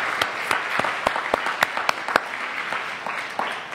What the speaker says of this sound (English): a round of applause right now,